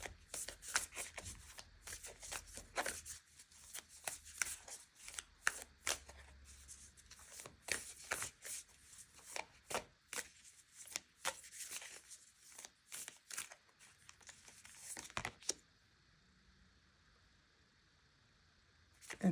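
Moonology oracle card deck being shuffled by hand, a long run of quick papery riffles and flutters, close and fairly quiet, ending in near silence.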